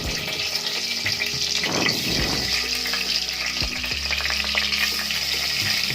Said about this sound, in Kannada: ಈಗ ಎಲ್ಲ ತುಂಬಿಟ್ಟಿರ್ತೀನಲ್ಲ ಆ ಬದನೆಕಾಯಿಗಳನ್ನು ಆ ಎಣ್ಣೆಯಲ್ಲಿ ಹಾಕಬೇಕು ಕುಕ್ಕರಲ್ಲಿ